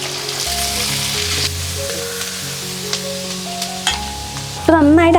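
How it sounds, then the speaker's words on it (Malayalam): Chopped shallots frying in oil in a pan, a dense steady sizzle with occasional stirring scrapes and small pops, ending in a brief louder clatter. "ഇതിലോട്ട് നമ്മൾ കുറച്ചധികം ചെറിയുള്ളി അരിഞ്ഞെടുത്ത് ഇടുവാണ് കേട്ടോ."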